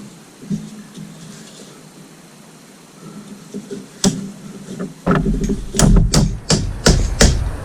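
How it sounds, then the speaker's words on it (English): Hammer blows strike a fork seal driver seating seals on a 2004 Yamaha R6 front fork, a few scattered knocks at first, then a quick run of sharp, loud metallic impacts close by. "This is to beat everything into place."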